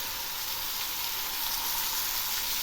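Ground onion paste and tomato paste fry in hot oil for a spicy mourola fish curry, giving a loud, continuous sizzle and hiss with no talking.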